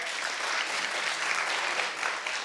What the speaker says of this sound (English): Oh, that's a light clap.